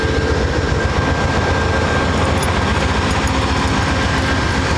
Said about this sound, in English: Our locomotive, Amtrak 101.